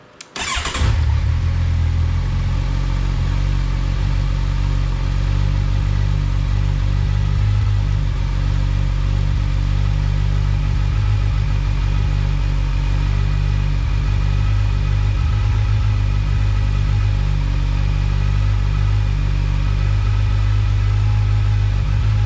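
A 2022 Kawasaki Versys motorcycle engine starts and then idles steadily close by, a continuous low, even rumble with a faint higher whine on top and no talking.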